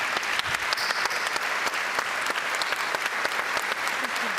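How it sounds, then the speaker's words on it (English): Audience applause for an award-winning team at a UEFA Champions League group stage draw ceremony, a loud, dense, sustained clapping from a large crowd running steadily throughout with individual sharp claps poking through. "I'm going to give them again a big applause"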